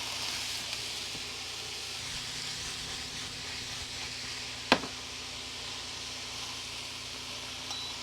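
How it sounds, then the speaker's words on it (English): Food sautéing in oil in a pan during an RV camping breakfast, a steady bright sizzle and hiss with one sharp clink partway through. "All right, we'll saute."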